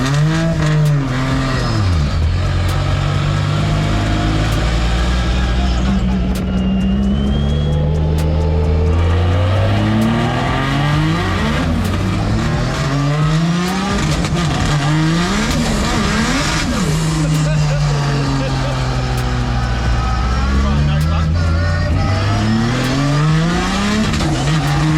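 A Ford Barra-engined car accelerates hard with wheel spin, its loud engine revving up and down through repeated rises and shifts, with tire squeal on top and the sound sustained and close for the whole stretch.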